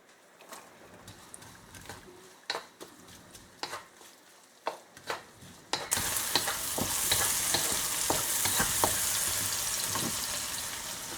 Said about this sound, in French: Et je vais commencer par faire revenir l'oignon avec l'ail.